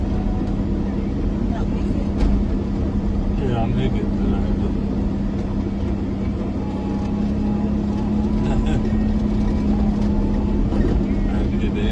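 A vehicle engine labours up a steep hill on Biliran Island in the Philippines, a loud, steady low drone with a constant hum. Someone talks over it now and then.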